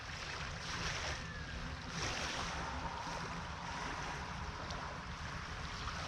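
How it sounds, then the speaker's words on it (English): Water lapping gently against a lakeside or riverside campsite shore, a steady soft wash with faint breezy hiss, continuous and close, with no talking. "nice gentle lapping of the water"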